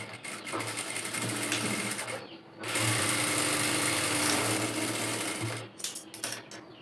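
An electric sewing machine stitches a one-inch seam along the side of the fabric in a tailoring lesson, running in steady loud bursts with a short pause partway through and then stopping near the end.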